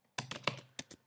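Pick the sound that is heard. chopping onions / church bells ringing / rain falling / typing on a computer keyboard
typing on a computer keyboard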